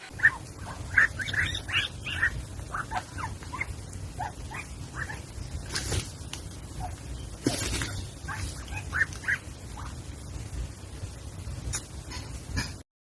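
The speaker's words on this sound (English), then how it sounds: "I've never heard sounds like this coming from a go-away bird" Soft, squeaky whisper-song calls of a go-away bird in short bursts, close by and fairly quiet, over faint background noise with a couple of brief rustling bumps.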